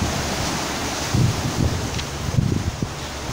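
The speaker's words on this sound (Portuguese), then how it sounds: "Dá um vento aqui." Wind blowing at the Guaíba riverfront, a loud steady rumbling buffet on the microphone with gusty low thumps, continuous and close, no talking.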